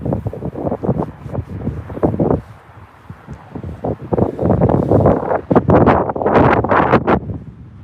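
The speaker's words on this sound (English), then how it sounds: "Wish the wind would stop blowing this camera tripod" Strong wind gusts buffet a camera tripod and microphone at Newcastle Airport during roughly 40 mph winds, a loud, uneven roar that surges and rumbles in bursts, easing briefly midway before battering back harder.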